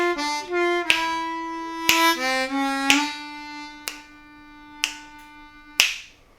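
Harmonica in C working through a turnaround blues lick from St. James Infirmary: bent, sustained reedy notes with sharp percussive attacks and a string of separate notes, played close with no talking.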